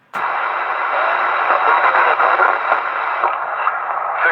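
Continuous loud hiss of CB radio static on a trucker channel, steady and unbroken for several seconds with slight fluctuations, no voices.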